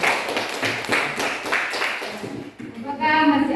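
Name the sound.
class applauding classmates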